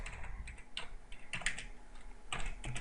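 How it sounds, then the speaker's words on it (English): Fingers type on a computer keyboard in irregular bursts of close, crisp key clicks, with short pauses between runs and no talking. "you can type whatever you like"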